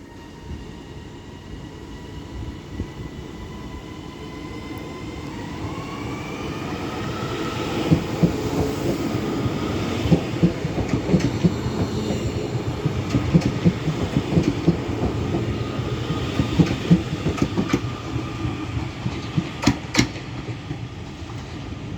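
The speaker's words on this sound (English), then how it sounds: "And now departing is the 1226 northern service to Leeds." A Northern passenger service to Leeds departs Doncaster station on the East Coast Main Line, its engine hum and wheel rumble building steadily, with rhythmic clickety-clack over rail joints and a brief rising tone, heard fairly close and without voices.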